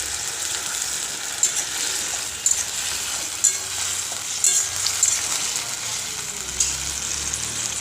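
Ginger paste sizzling as it fries in a pan with potatoes and spices, a steady loud hiss throughout with a few brief clicks and scrapes of stirring.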